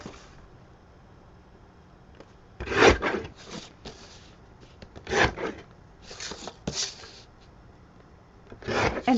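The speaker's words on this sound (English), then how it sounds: "let's trim this down and make it into a bookmark" Paper scraps trimmed into a bookmark, several short scraping cuts and rustles at close range, scattered between quiet gaps.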